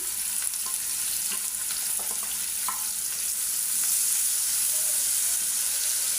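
Wet chopped onions hit hot oil at the start of a small-fish (mola) curry, giving a loud, continuous sizzle and hiss with scattered sputters and a few stirring knocks, heard close with no talking.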